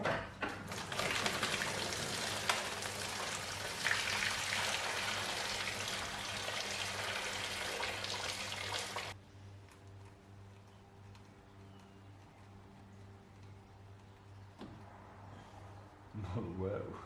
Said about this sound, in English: To take off the intake manifold we have to drop the coolant, or in this case the tap water.